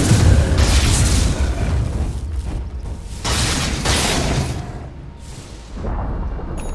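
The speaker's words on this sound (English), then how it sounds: "Dire's top tower has fallen." A Dota 2 tower under attack and collapsing: a run of heavy booms and crashing impacts, loud and close, with repeated bursts spread over several seconds.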